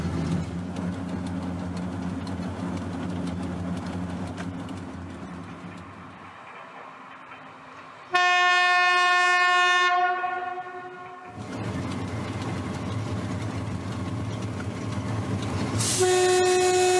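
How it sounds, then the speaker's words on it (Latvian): A steam locomotive on the Gulbene-Alūksne narrow-gauge railway arrives with a rumbling approach, then a long, loud, steady horn blast, the rolling train noise returning afterward and a second horn sounding at the end. "Tagad mēs atbraucam ar Tvaika lokomotīvu"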